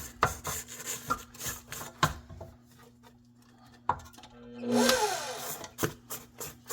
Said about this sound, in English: about 4 minutes in, we're gonna go ahead and scrape down.